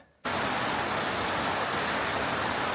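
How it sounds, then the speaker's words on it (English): After a brief quiet moment, heavy rain suddenly pours down, a loud, dense, steady hiss of water drumming on surfaces. "And then we got rain, an absolute torrent of rain."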